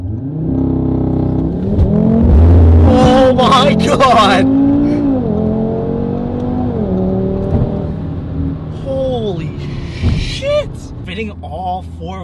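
An APR Stage 1 tuned Audi RS3 pulling hard under throttle at a car show: a loud, near engine surges and revs through several rising pulls, with excited voices cutting in over the roar toward the end.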